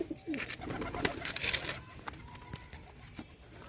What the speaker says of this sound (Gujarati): કબૂતરનું મોટું ખોલીને એક નાખી દેવાનું